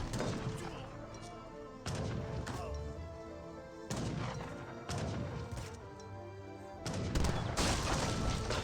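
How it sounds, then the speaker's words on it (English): Musketeers fire volleys during a battle in Age of Empires 3, with repeated loud bursts of massed gunfire and crashing impacts that each trail off, rolling on one after another. "Great volley down the musketeers"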